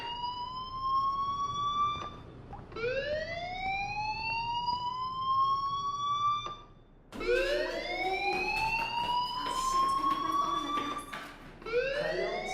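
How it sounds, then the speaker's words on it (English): A school fire alarm in Life Is Strange wails in rising, siren-like sweeps that repeat over and over, loud and close, with brief gaps between cycles and no talking. "Hey, do you hear that fire alarm? That means you should be outside."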